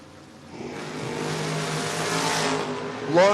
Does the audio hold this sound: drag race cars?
yes